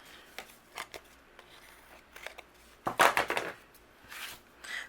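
Scissors trimming overhanging patterned paper on a handmade greeting card, a few soft snips and paper rustles followed by a sharper, louder cut near the middle.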